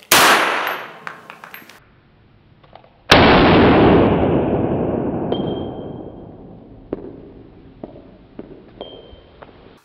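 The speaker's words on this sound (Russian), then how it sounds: "Вновь первый выстрел по блоку желатина, прикрытому курткой." A sharp, loud shot from a rubber-bullet pistol into a jacket-covered gelatin block cracks out and rings off into a long decaying echo, preceded and followed by smaller clicks and metallic clanks.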